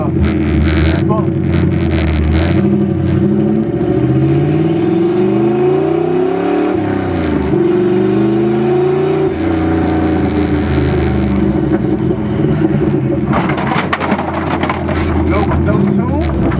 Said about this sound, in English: That is the daggone skid plate that you hear scraping. It scrapes on every bump.